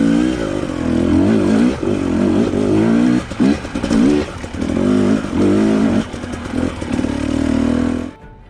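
A KTM 790 Adventure motorcycle rides over rocky trails, its engine loud and close, rising and falling with repeated revving and throttle changes, then cutting off sharply at the end.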